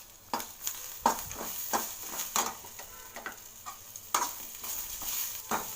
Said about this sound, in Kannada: ಸ್ವಲ್ಪ ಕೊತ್ತಂಬರಿ ಸೊಪ್ಪು ಆ್ಯಂಡ್ ಸ್ವಲ್ಪ ಕರಿಬೇವು ಸೊಪ್ಪು ಹಾಕಿ ಬಾಡಿಸ್ಕೋಬೇಕು.